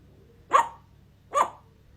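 A pet parrot named Zoiko imitates a dog, letting out two sharp, close bark-like calls about a second apart against a quiet room background.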